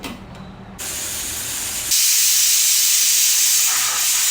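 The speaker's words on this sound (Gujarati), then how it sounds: "હવે આપણે આ વટાણાને બાફવા માટે મૂકી દઈશું." Steam hisses steadily as salted peas are set to boil for ragda puri chaat, starting with quieter clinks, then a broad, loud, continuous hiss that swells partway through and holds to the end.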